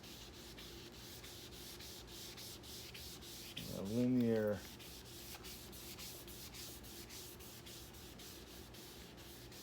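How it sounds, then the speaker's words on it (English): Wet sandpaper rubs across a plastic headlight lens during restoration with a Griot's Garage ceramic kit, a soft steady scrubbing that swells into one louder burst of strokes near the middle. "You let it dry, keep it wet, and start sanding"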